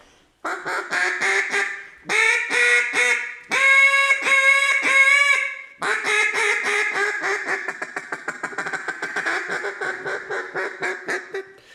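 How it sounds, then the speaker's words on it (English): A Ranger single reed duck call is blown in rhythmic bursts of loud, close quacks, long runs of rapid notes broken by short pauses, with no talk. "It's a super versatile call. Yeah, this is the Ranger single reed"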